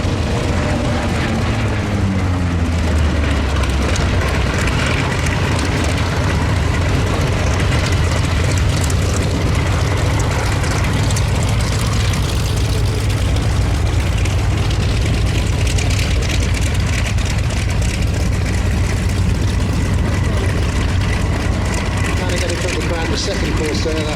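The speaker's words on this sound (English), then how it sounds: "waiting for Brian as he taxis in the yellow-nosed Corsair" Vought Corsair fighter plane with a yellow nose taxiing in at an air display, its piston engine a loud, continuous low rumble heard from nearby, with a commentator talking over it throughout.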